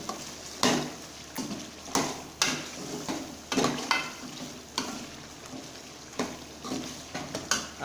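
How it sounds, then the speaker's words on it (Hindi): Mutton fries in a pan with a soft steady sizzle. A spatula scrapes and turns the meat in regular strokes about every second, the sound is close, and no one speaks. "और इसको अच्छी तरीके से गोश्त को भून लेंगे।"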